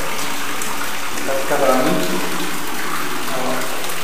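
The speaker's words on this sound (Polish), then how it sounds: "Woda spływa rurami, zobacz." Water rushes steadily through 80- to 90-year-old pipes in an echoing underground space, a continuous gushing hiss with a brief spoken phrase over it.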